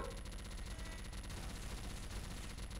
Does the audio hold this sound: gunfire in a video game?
yes